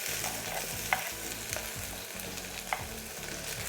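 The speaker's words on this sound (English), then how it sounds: "The first thing that we're going to throw into our saucepan is our onions." Onions frying in a little oil in a saucepan give a steady close sizzle, broken by a few sharp stirring clinks, with no talking.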